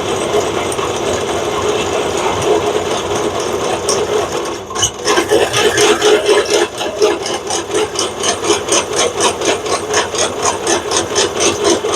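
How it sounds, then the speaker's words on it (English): A pipe notcher cuts the end of a metal tube in a workshop, giving a continuous grinding mechanical whir with a brief pause midway, then a rhythmic pulsing cut that carries on steadily and fairly loud. "So let's get this in the pipe notcher and notch this end first."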